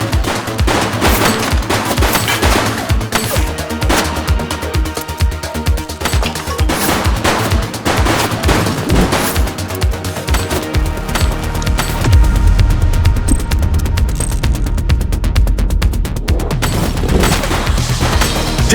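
Sustained, dense gunfire from a video game shootout, with rapid bursts of automatic fire and individual shots crackling loudly and continuously, joined later by heavier booming rumbles.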